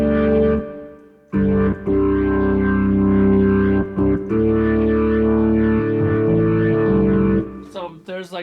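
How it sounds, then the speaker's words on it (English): A Hammond organ-style keyboard patch holds sustained chords with a swirling, wavering shimmer and slight grit. The playing pauses briefly a few times, and short choppy sounds close the passage. "So there's like a sort of a Hammond organ sound that I use as well"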